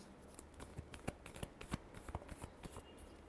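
Tarot cards being shuffled by hand, a quiet, close series of quick riffling flicks and soft taps in an irregular rhythm.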